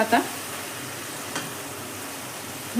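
Tomato masala for egg bhurji fries in a pan, giving a constant soft hiss of sizzling oil with a couple of brief scrapes as it is stirred.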